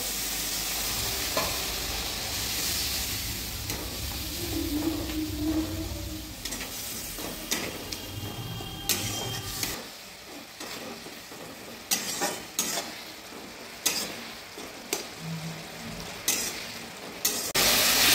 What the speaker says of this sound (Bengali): জল দিয়ে ভালো করে কষে নেব